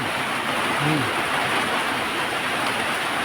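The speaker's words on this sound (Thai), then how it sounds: "โอ้ฟังเสียง เสียงฝนมานะครับ" A steady, dense hiss of heavy rain falls continuously at Phu Luang, Thailand, with a brief faint tonal sound early on.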